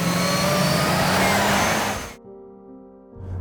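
A Honda Civic Type R driving, its engine note loud and close with a rising, revving drone that cuts off abruptly near the end, leaving brief quiet with faint tonal hum.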